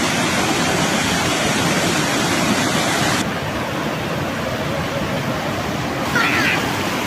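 Water pours steadily over a waterfall at the Zefta barrages, a dense, loud, continuous rush that drops slightly in intensity about halfway through and carries on unbroken.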